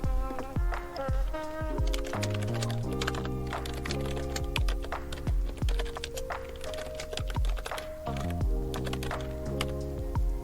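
Fingers typing on a computer keyboard, a quick irregular patter of clicks that continues throughout over soft background music.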